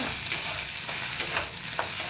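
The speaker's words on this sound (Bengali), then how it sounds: "প্রথমে এখানে ও ডিম দিয়ে দিয়েছে ডিমটা ভাজছে" An egg sizzles steadily in a hot pan, with occasional sharp clicks of a utensil scraping the surface.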